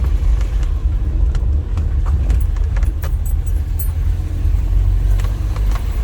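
A 1984 Nissan 720 pickup truck drives a short loop around a residential block, its engine a loud, steady low rumble close by, with faint rattles and clicks over the top and no talking.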